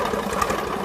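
An old 450 tractor with a big cam sits idling, a loud, close, lumpy engine rumble with a steady uneven throb through the whole short stretch.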